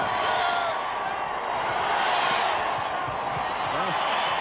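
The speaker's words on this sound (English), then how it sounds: "the crowd behind us urging John Barry to shoot" A dense, steady roar from a basketball arena crowd at a 1998 NBA Western Conference Finals game between the Lakers and Jazz, continuous and loud, with faint ball bounces beneath.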